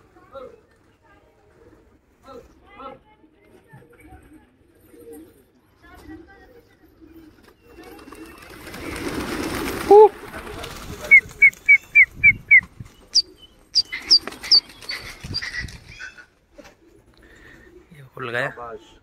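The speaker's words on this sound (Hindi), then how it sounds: "कबूतर खुल गया" Racing pigeons are released from a rooftop loft in Ranjeet Nagar, with a burst of wing flapping followed by a run of rapid calls and bird sounds, while people talk and shout nearby.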